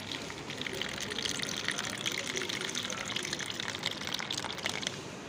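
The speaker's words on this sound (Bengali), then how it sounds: "ওপরের জলটা আমি নিয়ে নিলাম তার সাথে বাদাম ভেজানো জল আমি দিচ্ছি" Water from a soaking container poured together with almond soaking water into a vessel for a hibiscus plant tonic, a steady broadband splashing gush running continuously and fairly close.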